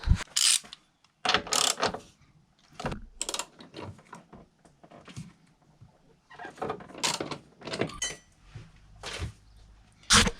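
A ratchet fitted with an E20 socket loosens nuts on a BMW F20/F30, giving close, sharp bursts of rapid clicking separated by short pauses and softer metallic clinks.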